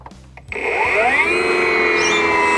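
A Milwaukee MX Fuel battery-powered cut-off saw with a 125 mm depth of cut and 5,370 RPM spins up over a soft start, then holds a loud, steady high-pitched whine close by, with no talking.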